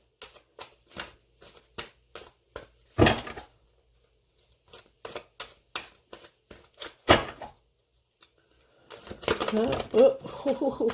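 Quick rhythmic flicks and slaps of cards being shuffled, repeated in a steady pattern, ending with a longer rustling riffle.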